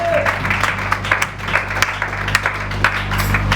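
A church congregation at a seminar gives a dense burst of applause to acclaim the Lord, with many hands clapping together under a low hum.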